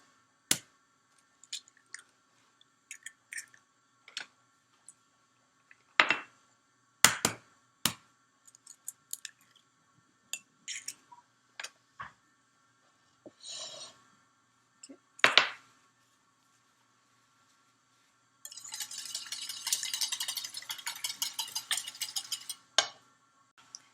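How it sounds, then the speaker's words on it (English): Three eggs whisked in a mixing bowl: scattered clicks and taps early on, then about five seconds of steady, rapid whisking scraping near the end, fairly close and with no talking. "Add them to a mixing bowl and whisk those."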